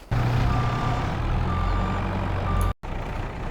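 A telehandler backs up in a farming simulation game, sounding steady, loud reversing beeps over a low vehicle engine drone, with a brief cut in the sound near the end.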